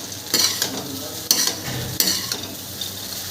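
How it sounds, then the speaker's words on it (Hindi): A spatula stirs roasted peanuts through poha in a wok, scraping and clattering in several distinct strokes over a soft continuous sizzle, close and fairly loud with no talking. "भुने हुए सिंगदाना को इनको अच्छे से मिक्स कर ले रही हूँ"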